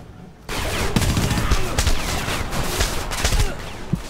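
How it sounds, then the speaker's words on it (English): Gunfire in the Homefront video game: dense, loud bursts of rapid shots rolling continuously after a quiet start, with overlapping blasts and no clear speech. "Who is shooting me"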